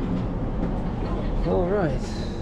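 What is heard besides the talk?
train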